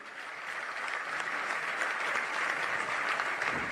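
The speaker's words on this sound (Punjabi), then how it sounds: "ਇੱਕ ਵਾਰੀ ਕਿਸਾਨ ਯੂਨੀਅਨ ਦੇ ਨਾਂ ਤੇ ਜ਼ੋਰਦਾਰ ਤਾੜੀ ਹੋ ਜੇ" Crowd applause at a farmers' union protest sit-in, steady and dense clapping from a large gathering that holds for several seconds, fairly close and alone without talk.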